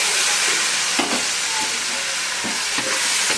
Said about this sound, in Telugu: టమాటా వేసుకొని కలవ తిప్పుకోవాలండి